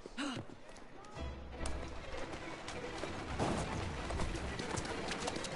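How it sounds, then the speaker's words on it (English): Hooves of a horse pulling a cart clip-clop steadily in a video game, mixed with birdsong and other game sounds while people talk over it. "Go faster, horsey!"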